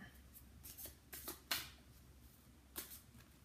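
A few quiet, crisp riffles and snaps of an Osho Zen tarot deck being shuffled, irregular and brief against near silence.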